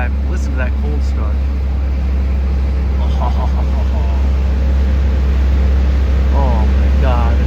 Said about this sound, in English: Listen to that cold start.